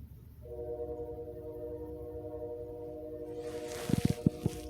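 A train horn sounds a long, steady multi-tone chord from a distance, eerie and sustained, then cuts into a few short sharp blasts near the end, with quiet rumble beneath.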